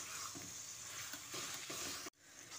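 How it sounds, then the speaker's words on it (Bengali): Flat beans being mixed with turmeric in a pot, a soft scraping and gentle sizzle repeating for a couple of seconds, faint and close, ending in a sudden cut. "তারপর সমস্ত কিছু একসঙ্গে ভালো করে মিশিয়ে নিচ্ছি"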